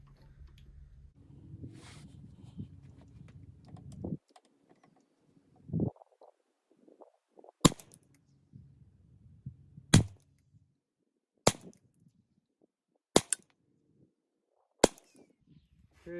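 Five sharp, crisp rimfire rifle shots fired at a paper target while zeroing a scope, spaced a few seconds apart, with some quiet shuffling and low rumbling between them.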